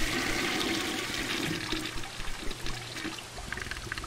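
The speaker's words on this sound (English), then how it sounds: "Oh, I gotta flush it." A toilet flushes in the video game Deathflush, a loud rushing gush of water that runs steadily for about four seconds with gurgling, trickling surges toward the end.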